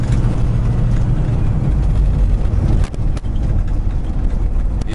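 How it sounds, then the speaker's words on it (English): A semi truck on the move, hauling a trailer on badly worn tires, gives off a loud, steady low rumble with clattering rattles throughout and a brief dip partway. "Yeah, you can hear all my rattling noises."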